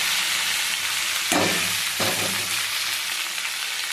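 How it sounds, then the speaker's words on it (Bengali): Okra frying in hot oil with cumin and green chilies gives a steady close sizzle, with two louder crackling surges as the pan is stirred. "জিরেটা একটু ভাজা ভাজা হয়ে গেলে তারপর দেবো ঢ্যাঁড়সটা"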